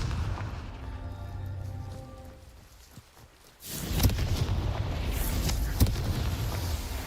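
A Confringo fire-spell blast in the video game Hogwarts Legacy, following a quiet stretch: an abrupt loud burst erupts near the middle, then crackling, booming fiery noise continues with sharp impacts, no talk over it.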